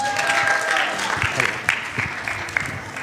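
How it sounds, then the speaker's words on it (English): A student ministry congregation applauds their pastor, the clapping holding at moderate loudness through the clip while a voice talks over it. "Y'all give another hand clap to our leader, Pastor James."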